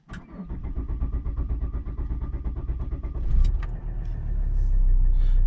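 Volvo V60 D5/D4 diesel engine cranking after a fuel filter replacement, a rapid rhythmic starter churn for about three seconds before catching and settling into a steady close idle.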